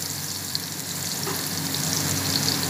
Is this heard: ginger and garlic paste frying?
yes